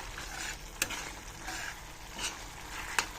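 Soya chunk and ridge gourd curry is stirred in a pan over a high flame, soft frying sizzle with a few sharp spoon clinks against the pan.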